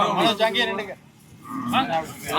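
Cattle low at the Kannapuram native cattle market, with loud, close moos in two calls separated by a short pause.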